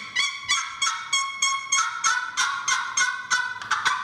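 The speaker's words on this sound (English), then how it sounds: "Yeah, it's a good box call." A vintage wooden turkey box call, raspy and fairly high pitched, runs a steady series of about a dozen loud, evenly spaced yelps with a rolling break between notes, heard up close with no talking.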